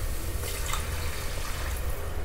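Water pours steadily from a tumbler into a pot of soaked basmati rice for tomato rice, a continuous close splashing stream heard alone.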